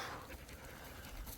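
Dogs pant heavily after overheating on a hot day, with rapid breathy rhythmic puffs close by and steady throughout, no talk.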